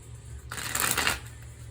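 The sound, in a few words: shuffling a tarot card deck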